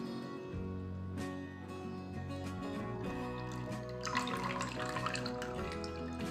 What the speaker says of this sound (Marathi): ताकाचे पाणी मी काढून घेते भांड्यात.